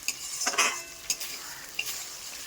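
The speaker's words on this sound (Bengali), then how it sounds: "আদা বাটাটা দিয়ে আমি খুব ভালো করে এটাকে কষবো যতক্ষণ না আদারও কাঁচা গন্ধটা চলে যায় না।" Ginger paste is stir-fried in a pan for a chatpata chicken dish, giving a soft, quiet sizzle with a few sharp scrapes and clinks of a utensil against the pan.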